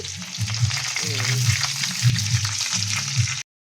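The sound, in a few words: sautéing onions in a frying pan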